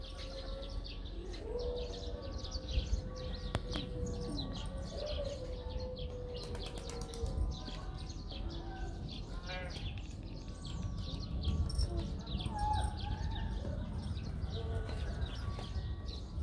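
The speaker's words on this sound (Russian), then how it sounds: "И голуби здесь живут." Farm birds call in a small park mini-zoo where sheep also roam, with bleating and chirping scattered over a steady outdoor murmur, moderately near and fairly quiet.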